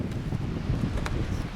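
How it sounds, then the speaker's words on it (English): Strong, steady wind roars across an open RC glider flying field, a constant broadband rush buffeting the microphone with low rumbling gusts and no pauses. "The wind is very strong."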